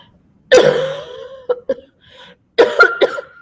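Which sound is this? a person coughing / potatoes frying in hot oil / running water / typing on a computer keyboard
a person coughing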